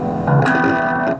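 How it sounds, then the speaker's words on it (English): A Dean Razorback 7 seven-string electric guitar rings out through heavy distortion, a single thick sustained chord struck loud and close, holding for about a second before cutting off. "now with distortion"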